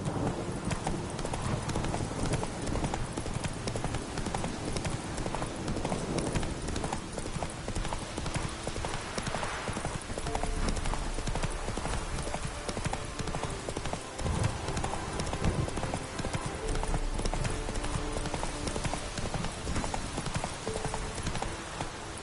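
Hooves of the horse Roach in the game Witcher III, a steady rhythmic clip-clop of trotting that runs unbroken throughout, close and clear over a busy game ambience.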